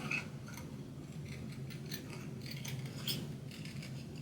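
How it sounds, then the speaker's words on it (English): Scissors cut through paper to make a shabby chic tag pocket at a craft class, producing faint, soft snipping and rustling close by in a quiet, steady stretch without speech. "all I'm going to do now is just cut this out"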